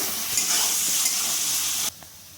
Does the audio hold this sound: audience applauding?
no